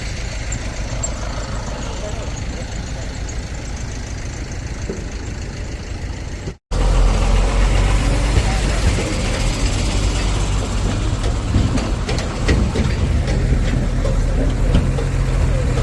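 Vehicles idle in a highway traffic jam on the Wada–Bhiwandi road near Khupri, stalled behind an overloaded truck with a burst tyre. A steady broadband engine rumble is broken by a brief dropout, then returns louder and closer.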